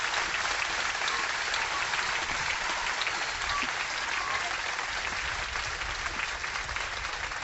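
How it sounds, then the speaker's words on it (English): An audience at a crime-writing author event bursts into sustained applause, loud and uniform throughout, with no voices rising above it. "Please, a round of applause for Megan Abbott, please."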